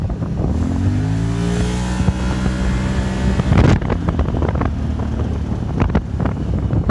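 Can-Am Maverick Sport DPS 1000R side-by-side accelerating at speed, a loud steady engine drone rising in pitch under heavy wind buffeting, with a sharp bump or clatter partway through.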